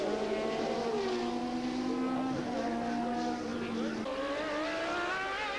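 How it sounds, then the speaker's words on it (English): Racing cars at Mondello Park in the 1999 EuroBOSS series, including a March Cosworth 2-litre car, roar past with high engine whines rising and falling through gear changes, loud and continuous under a commentator's voice. "on Jonathan Taylor, who's driving the March Cosworth 2-litre car"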